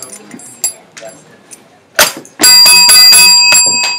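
A bell rings loudly and close, its bright metallic ring sustained for over a second after scattered clinks and a short voice near the start.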